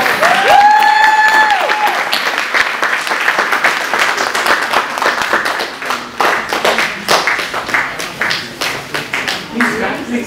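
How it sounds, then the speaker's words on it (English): Applause from an audience at a United Nations International Peace Day event after a young girl's song, with steady clapping that thins into scattered claps as people talk over it. "One more applause."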